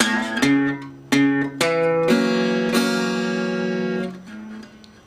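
A country blues guitar rings out a low bass note, then strums of the open first, second and third strings, each chord sustaining and fading, close and clear with no talking.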